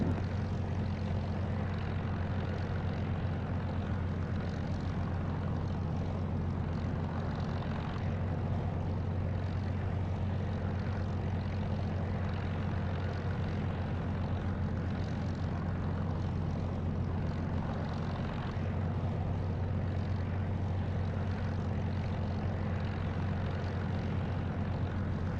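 A Spitfire's piston engine drones at takeoff power in the DCS flight simulator, a steady, full-bodied rumble that holds constant throughout, with no voices over it.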